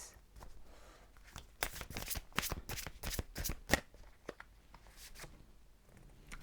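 Tarot cards being shuffled by hand, a run of quick crisp riffles and slaps of the deck, close and fairly quiet, with no talk over them.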